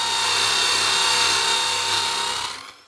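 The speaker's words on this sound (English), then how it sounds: "Listen to the noise of the motor." Nirey KE 280 electric knife sharpener motor running under load against its abrasive, a steady loud whirring hum that stays even and then winds down at the end.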